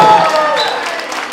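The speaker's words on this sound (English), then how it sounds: "I think that deserves another round of applause" Applause from guests at a 50th birthday celebration, a broad, steady wash of clapping that holds fairly loud for its short length and tapers slightly toward the end.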